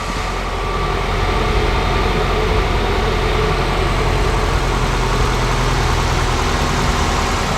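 A Nissan Teana 2.5 XV L33 engine idles steadily up close, a smooth, even rumble with a constant low hum and no speech.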